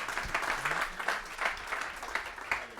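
An audience at a holiday live-stream community event applauds between presenters, steady scattered clapping of moderate volume with a bit of crowd murmur mixed in.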